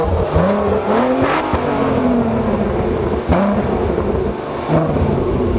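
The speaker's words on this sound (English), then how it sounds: "Can I have some revs, please?" A car engine revs hard in several short bursts, its pitch climbing and dropping between blips, loud and close with no talking.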